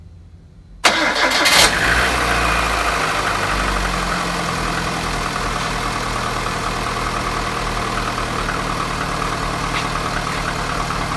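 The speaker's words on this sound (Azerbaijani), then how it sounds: "Gəl indi isə avtomobili işə salaq," A Lada Kalina engine cranks and fires up about a second in after its timing belt was replaced and ignition timing set, then settles into a steady, loud idle that runs to the end with no talking.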